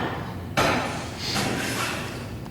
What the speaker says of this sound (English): Hammer the wall.